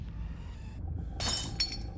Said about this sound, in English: window shatters.